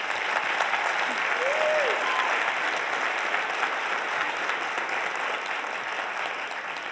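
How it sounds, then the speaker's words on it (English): An audience at an EdTalks event applauds a speaker, a broad, even wash of crowd clapping that stays loud and steady for the whole stretch. "let's give her another round of applause"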